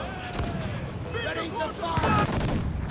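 Ship cannons boom in Assassin's Creed Black Flag, several heavy shots in quick succession over a busy naval battle, with voices and music-like tones mixed beneath the blasts.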